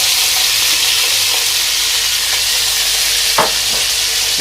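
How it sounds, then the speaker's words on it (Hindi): Onion, tomato and capsicum frying in hot oil, a loud, steady close sizzle throughout with a few soft stirring clicks. "अभी मैं ये जो सब्ज़ियां थी, प्याज 1 और 1 टमाटर, शिमला मिर्च, ये मैंने इसमें डालता हूँ"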